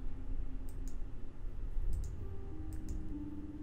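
Sharp, faint mouse clicks come in pairs and small bursts during play of a horror puzzle video game, set over a low, steady background hum.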